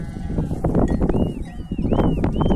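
Sheep from a farm flock bleat loudly and close by, several wavering calls overlapping against a busy background of animal movement and shuffling.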